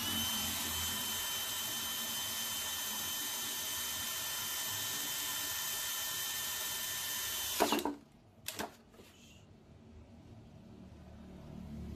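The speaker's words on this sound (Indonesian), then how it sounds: "Masih dengan mata bor DeWalt 8 mm. Speed 2 mode drilling." A DeWalt DCD999 power drill with an 8 mm DeWalt bit, on speed 2 drilling mode, grinds steadily through a steel plate for several seconds, loud and close, then cuts out, followed by a couple of sharp clanks and quiet.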